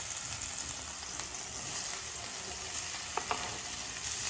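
Green chillies and onions sautéing in hot oil for a Tamil Nadu style shark puttu, a steady close sizzle with a few light clinks of a stirring spoon against the pan, with no talking.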